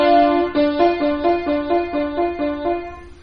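Keyboard playing the first and third degrees of a triad together, a steady run of about ten repeated struck notes, close and clear with no talk.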